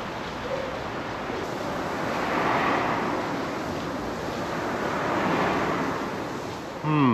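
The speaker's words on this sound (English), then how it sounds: "This is, of course, the mighty river Danube that we're crossing, and it flows pretty fast through Bratislava" Fast-flowing Danube river in Bratislava heard while crossing a bridge, a broad rushing wash that swells and fades, mixed with wind buffeting the microphone, and a loud gust at the end.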